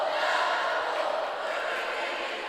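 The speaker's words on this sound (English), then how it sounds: "Oh, we got our final cheer." Swim team shouting its final cheer at a senior night meet in an indoor pool, a broad wash of massed young voices filling the space steadily and fairly loud for the whole stretch, with no single voice standing out.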